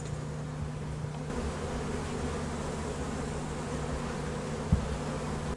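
A dense, steady hum of many honeybees buzzing close by at an open hive, continuous and even throughout, with no voices.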